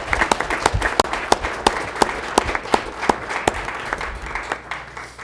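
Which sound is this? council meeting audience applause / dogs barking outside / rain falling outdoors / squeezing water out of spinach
council meeting audience applause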